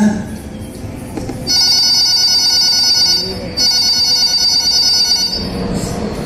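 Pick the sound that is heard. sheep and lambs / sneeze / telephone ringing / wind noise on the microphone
telephone ringing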